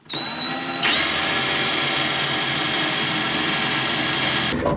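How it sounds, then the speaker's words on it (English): A power drill with a small bit whines steadily at high speed, drilling out spot welds in metal with a loud, continuous buzz after a brief start-up, then stopping near the end. "I'm going to try to find each one of them"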